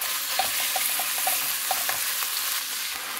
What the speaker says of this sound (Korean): 이제 끝으로 고기를 볶아주겠습니다.